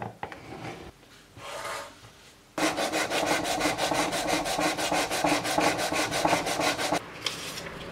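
Sanding the slightly oversized wooden bottom piece of a box-cut joint gift box: quiet scraping at first, then from about 2.5 seconds a loud, steady rhythm of rapid back-and-forth rasping strokes up close.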